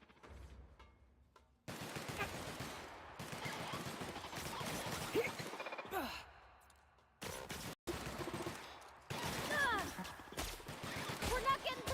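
Rapid automatic gunfire against robots in The Outer Worlds, bursts of loud shots and impacts that break off briefly and resume, with a voice talking in between.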